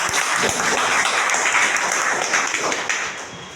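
Seminar audience breaking into loud, dense applause, a continuous close wash of many hands clapping that tapers off slightly at the end.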